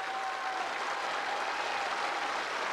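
Dense, even applause from a theatre audience fills the whole moment, a steady wash of clapping hands with no pauses and no voices standing out.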